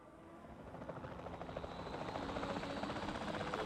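A helicopter in the video game Jurassic World Evolution 2 drones with a steady, thrumming rotor beat that swells gradually louder over a few seconds, heard alone with no talk.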